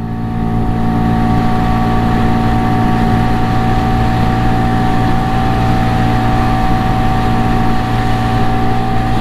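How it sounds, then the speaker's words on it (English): A steady, loud engine drone from a Segway AT6 SX 570 ATV runs throughout at high revs with a constant hum during a speed run, heard up close with no talking. "And the engine noise ain't bad either."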